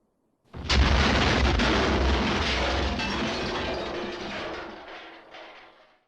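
A big explosion in the film Evil Dead 2 bursts in suddenly, then a dense, roaring rumble that holds steady for several seconds before slowly dying away.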